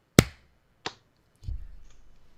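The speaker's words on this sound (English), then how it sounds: "Can we do another clap sync?" A sharp single hand clap, followed by a second fainter crack and then a low rumbling thump, close and in a quiet room.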